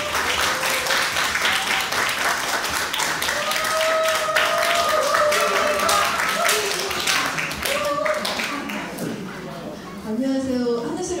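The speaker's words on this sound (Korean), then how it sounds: "하늘소리 오카리나 이미경 대표님을 큰 박수로 모시겠습니다" An audience applauds at a summer ocarina concert as the host organiser is welcomed to the stage. Dense clapping runs steadily throughout, with faint tonal sounds or voices mixed in and a brief dip near the end.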